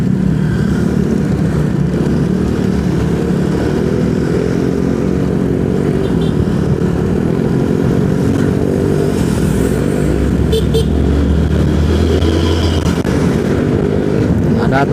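Congested road traffic on the Bogor-Sukabumi highway near Cicurug market, with a loud, continuous roar of cars and motorcycles passing close by, engines droning and revving, and a few faint clinks.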